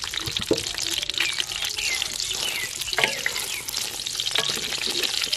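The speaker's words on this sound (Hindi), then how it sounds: "अभी इनको हम करेंगे फ्राई।" Green chillies frying in hot cooking oil with cumin, giving a steady, close, busy sizzle with crackles and occasional stirring scrapes throughout.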